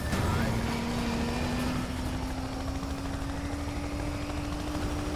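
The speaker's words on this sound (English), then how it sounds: "The chopper's about to fry my car." A police helicopter chases a car in the racing game Need for Speed Payback, its rotor and engine a steady, loud drone with a rising whine layered over dense road and engine rumble throughout.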